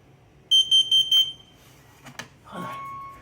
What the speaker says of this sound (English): Now my better smoke detector test.